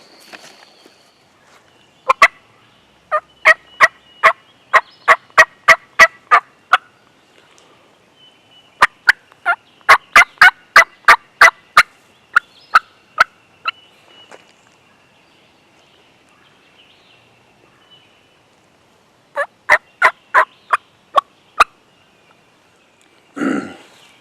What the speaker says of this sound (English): But there's one gobbling